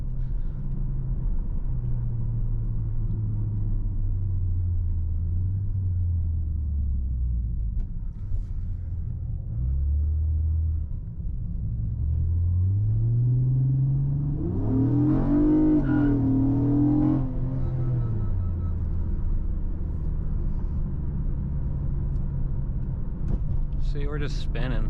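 Car engine revs and drones in rising and falling pitches as tires spin, a loud continuous mechanical rumble with a sharper surge partway through.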